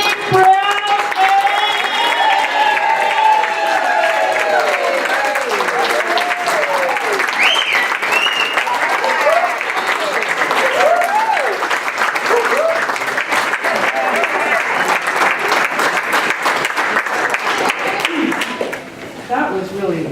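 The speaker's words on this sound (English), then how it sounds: "Give a big round of applause to our hostess" A large audience applauds the hostess at a family reunion in Portland, Oregon, a loud sustained wash of clapping lasting about twenty seconds with excited cheers and voices riding on top, fading briefly near the end.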